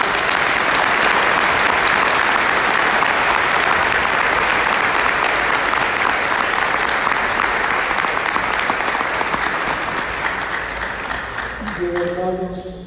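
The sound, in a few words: congregation applause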